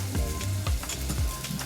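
Brown onion hitting vegetable oil and butter in a pan, with a close continuous sizzle and a few stirring scrapes, and a low pitched hum sliding underneath.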